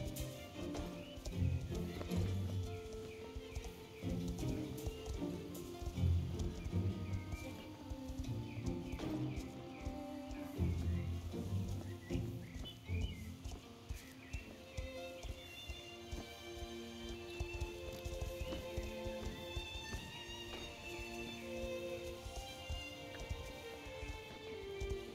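Hooves of the Lusitano horse Sirio clip-clop steadily in Star Stable Online, a continuous walking rhythm over soft game music with faint birdsong and occasional neighs, played quietly throughout.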